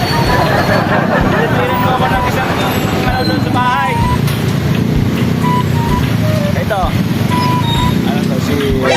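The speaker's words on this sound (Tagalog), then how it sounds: "Sobrang traffic talaga ng Marcos Highway na to." Heavy road traffic crawls along Marcos Highway in rain, a loud, steady wash of engines and tires with occasional horn-like tones rising over the din, with someone talking throughout.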